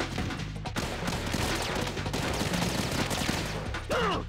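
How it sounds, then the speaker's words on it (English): Rapid bursts of gunfire crackle through the scene in the stealth game Metal Gear Solid 2 Substance, dense and close, ending in a sharp metallic ricochet-like ring. "Oh my goodness, she's already being shot."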